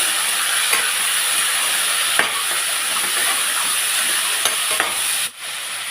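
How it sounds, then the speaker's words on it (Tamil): Tomato and dried sundakkai berries sautéing in a pan for a tamarind curry, giving a loud, steady sizzle and hiss with a few faint stirring clicks, close and continuous. "இந்த கறி சுண்டைக்காயும் சேர்த்து விட்டுருவோம். நம்ம இதை நல்லா வதக்கிடலாம்."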